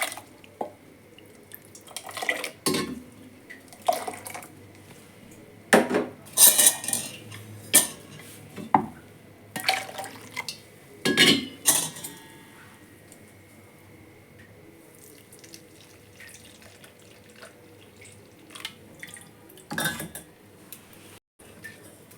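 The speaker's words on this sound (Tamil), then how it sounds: "இப்போ வடிகட்டிக்கலாம்." A blended ginger mixture for panipuri water is strained in a kitchen, heard as scattered metallic clinks of a spoon against a strainer and vessel, with dripping and splashing liquid in irregular bursts between quiet stretches.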